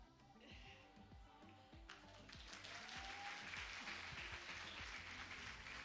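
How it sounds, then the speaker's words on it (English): Audience applause at an awards ceremony for a science buskers festival, steady clapping that swells and grows denser after a couple of seconds, with a bed of musical tones running underneath throughout. "A round of applause, don't be jealous."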